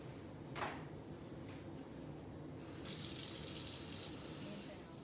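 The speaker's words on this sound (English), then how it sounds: "Wash hands immediately after removing gloves." Tap water runs steadily into a sink during handwashing after glove removal, a soft continuous wash that swells louder partway through, with brief faint sounds near the start.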